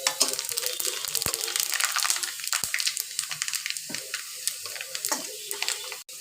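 Panch phoron spices sizzle steadily in hot oil while they are stirred in a pan, with a constant close crackle and a few sharp scrapes and clicks from the spoon.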